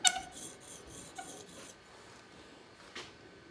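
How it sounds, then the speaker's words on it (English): Steel chisel slid back and forth across a sharpening stone, giving a few short, close rasping strokes with a brief scrape near the end. "So when I slide it on my stone here"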